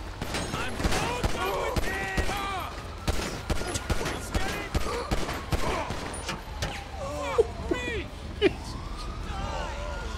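Rapid gunfire bursts and single shots crack repeatedly through a GTA V Online street fight, with sirens wailing between volleys and people talking over the action.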